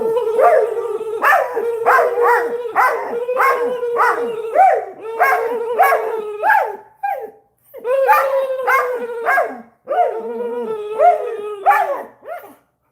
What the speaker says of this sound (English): There's a damn good coon dog, ain't him?